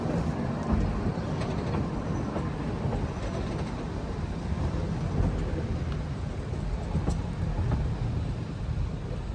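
A toy train on the Kalka–Shimla line rumbles along steadily with a constant low roar and occasional faint clacks, heard from on board, with no talking.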